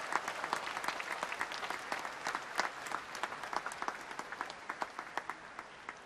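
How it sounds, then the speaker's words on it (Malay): Audience applause at a Malaysian Prime Minister's national transformation programme annual report speech, a steady, dense clapping from a large crowd filling the whole stretch at even volume. "marilah kita beri tepukan yang gemuruh pada kaum wanita"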